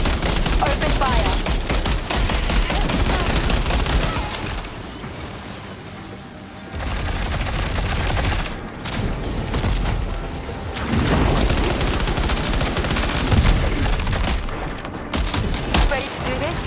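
Heavy sustained gunfire in the video game Death Stranding 2, dense rapid bursts and booms filling the whole stretch with a brief lull in the middle, loud and close.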